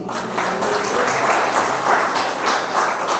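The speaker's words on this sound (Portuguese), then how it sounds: "Você pode dar um aplauso ao Senhor Jesus?" A church congregation claps together during a sermon in a steady, dense wash of applause that holds at a fairly loud level for a few seconds with no talking.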